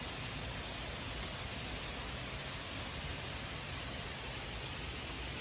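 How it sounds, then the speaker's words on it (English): Heavy rain pours down outdoors beside an A-frame cabin under construction, with wind adding to a dense, unbroken hiss that stays loud and steady throughout. "it is windy and downpour."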